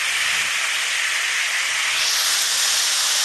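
Ginger paste hits frying potatoes with cumin in hot oil, producing a loud, close, steady steam-like hiss and sizzle that holds for the whole moment with no speech.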